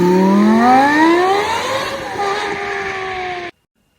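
A 500-horsepower car pulls away loudly, its engine note climbing through the gears with rising revving pitches before cutting off abruptly.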